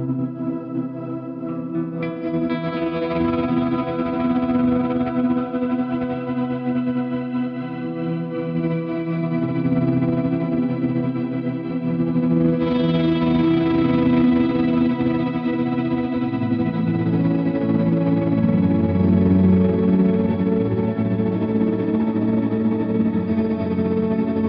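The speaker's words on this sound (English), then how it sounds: "it just does great reverb and delay tones" An electric guitar plays through a reverb and delay pedal, sustained chords drenched in reverb and echoing delay, the notes washing and trailing into each other, loud and without any talking.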